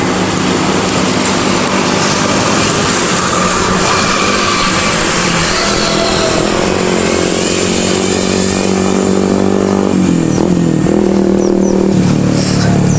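A 5-inch FPV drone, a Speedybee Mario 5 XH carrying a DJI O4 Lite, flying with its motors whining loudly and steadily, pitch shifting up and down as the throttle changes, close and unbroken throughout.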